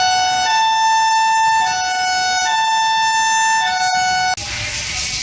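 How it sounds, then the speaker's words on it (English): A loud two-tone prison escape siren alternates between pitches in a steady wail, cutting off abruptly near the end into a noisy hiss. "here's Broadmoor's escape siren"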